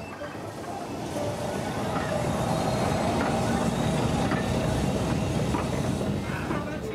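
A railway train rolls steadily past, giving a continuous rumbling roar with faint wheel clatter that holds at a moderate distance throughout.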